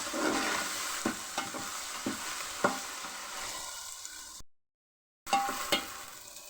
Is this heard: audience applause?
no